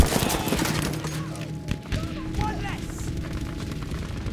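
Battlefield V match with rumbling wartime battle din, scattered gunfire and muffled blasts; a grenade explosion sits somewhere in the steady, dense noise rather than standing out, while voices shout over the chaos.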